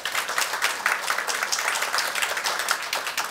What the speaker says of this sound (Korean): 김양희 위원장님을 박수로 맞이해 주시기 바랍니다